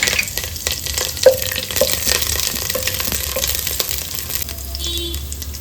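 Curry leaves fry in hot ghee with a close, steady sizzle and crackle, spattering pops scattered through and a low hum underneath.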